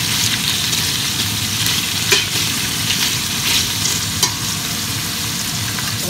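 Beef sizzles steadily in a hot pan as it browns, a dense continuous frying hiss with a few brief utensil scrapes and clicks over it, close and fairly loud.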